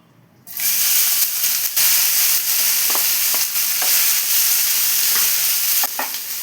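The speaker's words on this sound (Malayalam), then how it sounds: "ഹൈ ഫ്ലെയിമിൽ വെച്ചിട്ട് ഇളക്കി കൊടുത്തിട്ടൊന്ന് മൊരിയിച്ചെടുക്കാം." Shredded chicken fries in coconut oil in a pan over high flame for Kerala-style chicken puttu, giving a loud, steady sizzle that starts abruptly, with scraping stirs breaking through at intervals.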